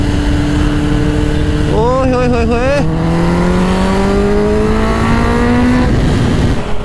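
A Kawasaki ZX-10R motorcycle screams through rapid gear shifts at full power in a drag race against a scooter, its high engine note climbing and fading into the distance while a man exclaims excitedly over it.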